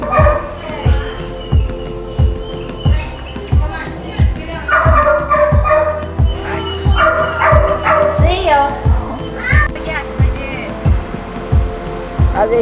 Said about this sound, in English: Are they your dogs?